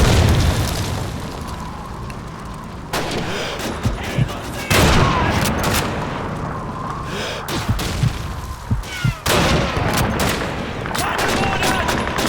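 Grenade blasts and rolling gunfire from the World War II shooter Call of Duty 2, with loud booms and bursts of shots repeating throughout amid dense battle noise, with some speech mixed in.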